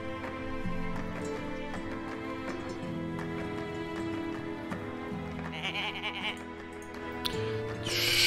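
Sheep bleat in the farming video game Summer in Mara, set over continuous background music that plays steadily throughout, with the animal calls mixed in rather than standing alone.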